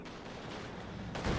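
Dense battle din of G43 semi-automatic rifle fire from Panzer Grenadiers in Company of Heroes 2, a steady wash of overlapping shots that swells louder at the end, with no voices.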